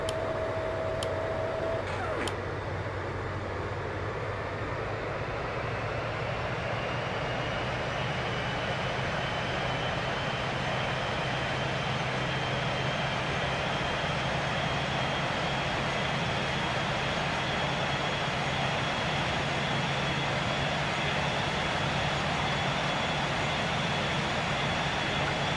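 Dash 8 Q400 turboprop engines in Real Flight Simulator spooling up for the takeoff roll, a broad, steady roar with a rising whine that holds loud and even for the whole stretch, preceded by a brief click.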